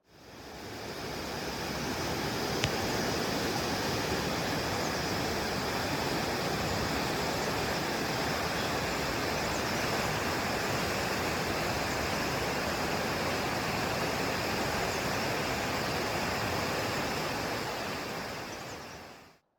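Clear bluish mountain river water rushes past a bridge in a steady, loud, unbroken roar that fills the whole stretch, with no voices.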